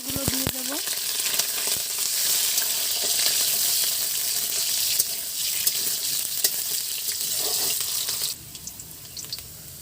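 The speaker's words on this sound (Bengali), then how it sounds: "প্রথমে আলুগুলো দিয়ে দেব।" Cut potatoes dropped into hot oil in a wok hit with a sharp burst of loud crackling sizzle that holds steady, then drops suddenly quieter near the end, close up with no talking.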